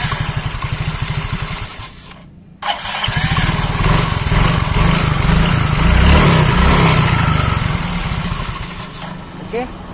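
A Yamaha Mio scooter with a worn kick-start thread rumbles near by, drops out briefly, then catches and revs up to a steady loud running note that stays to the end.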